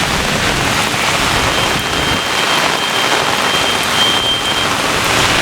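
Torrential rain from a severe thunderstorm in Brooklyn, New York roars steadily and loudly, an unbroken wash of sound with no voices.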